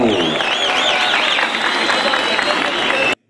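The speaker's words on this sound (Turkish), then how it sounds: "Büyük bir alkış alıyoruz Manisa'dan" Dense crowd applause fills a festival concert in Manisa, loud and continuous, with cheering and a whistle-like tone sweeping over the top before it cuts off.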